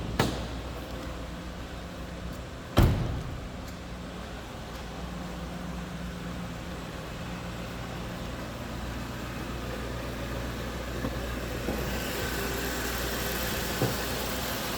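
A 1995 Cadillac Sedan DeVille engine idles in a steady low hum, broken near the start by one sharp click as the hood release is pulled, then a faint later clunk.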